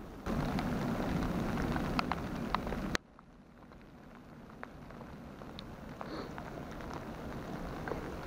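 Light spring drizzle falls in a Ural forest, a soft, steady patter of raindrops with occasional sharper drips. It continues quietly and evenly after a brief drop in level.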